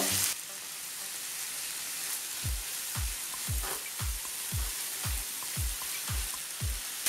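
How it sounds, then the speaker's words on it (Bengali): Ginger-garlic paste sizzles steadily in a hot pan while cooking a Bengali prawn dopiaza, with a regular series of soft low knocks about every half second, like a spatula stirring against the pan. "আদা রসুনের পেস্টটা আমি হাফ মিনিট ভেজে নেব"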